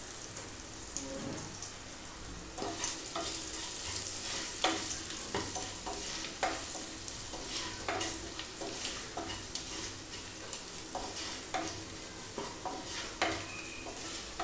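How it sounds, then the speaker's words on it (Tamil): Spices sauté in a pan with a soft, steady sizzle while a utensil scrapes and stirs in repeated strokes, fairly quiet and close. "மிளகாத்தூள் வாசனை போக 1 நிமிஷம் வரைக்கும் நல்லா வதக்கியாச்சுங்க"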